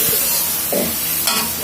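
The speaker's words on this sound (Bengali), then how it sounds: "রসুন ভাজা শেষ।" Garlic fries in a pan with a loud, close, continuous sizzle, broken by a couple of brief stirring scrapes.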